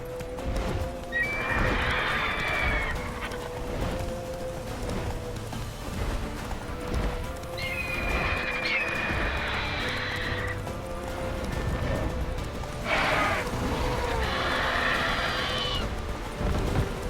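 Horse in The Witcher 3 video game galloping with steady clip-clop hoofbeats while repeatedly neighing and whinnying in loud, close bursts over continuous game ambience.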